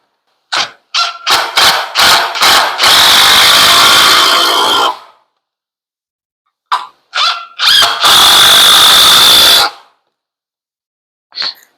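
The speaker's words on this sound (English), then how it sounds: "I definitely got to get a different bit because this one's going." A power drill with a worn bit drives into wood for a shave horse built from 2x4s, starting with short stuttering trigger bursts, then a long loud whine, a pause, and another cycle of bursts and a sustained run, close and alone.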